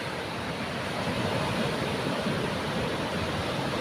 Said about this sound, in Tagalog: Tigano malakas ang alon